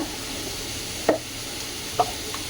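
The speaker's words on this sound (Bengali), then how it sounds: "কড়াইতে তেল দিয়ে দিলাম আর একটা তেজপাতা শুকনো লঙ্কা" Bay leaf and dried chilli crackle in hot oil in a wok, a low steady sizzle broken by two sharp pops or taps, no voices.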